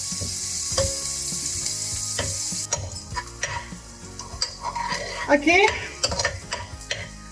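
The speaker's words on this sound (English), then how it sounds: "Stir this for 3 to 4 minutes or until the onion softens." Onions and curry leaves stirred in a pan with a close, steady sizzle. A spatula scrapes and clinks against the metal in irregular bursts, and a voice briefly speaks.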